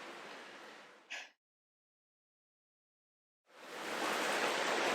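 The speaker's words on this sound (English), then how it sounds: "I'm sure you can hear the rain in the background" Steady rain falls outside open windows on a warm, rainy August day in Salem, Massachusetts, a broad hiss that cuts out into near silence for a couple of seconds and then returns just as loud.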